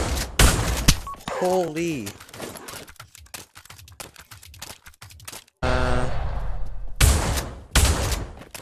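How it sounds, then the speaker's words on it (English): Shotgun blasts in the video game Pavlov, loud sharp bursts near the start and again in the final seconds, with quieter clatter and a brief exclamation from a voice in between. "The best shotgun in the game."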